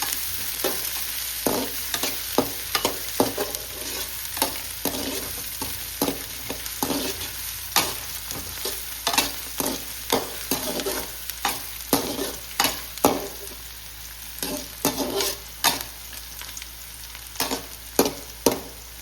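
Onions fry in a pan with a constant hiss of sizzling oil, broken by frequent sharp scrapes and taps of a spoon stirring, close up and steady throughout.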